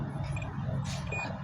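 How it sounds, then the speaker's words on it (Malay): Faint electronic buzzer tones from an electrical tester sound in two short bursts over a steady low hum, with no talking, while checking a refrigerator compressor motor overload. "Ada bunyi buzzer."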